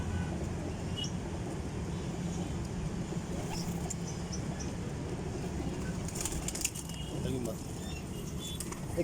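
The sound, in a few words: Teddi pigeons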